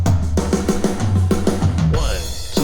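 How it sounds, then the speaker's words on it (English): A Beatbuddy drum machine runs its Rock 1 pattern at a slow 96 BPM, giving an evenly spaced run of kick and snare hits up close that stops abruptly near the end. "the fabulous Beatbuddy, I'm using the Rock 1 pattern at 116 beats per minute"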